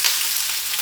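Salmon frying in a pan, a loud steady hiss of sizzling oil, up close and without pause.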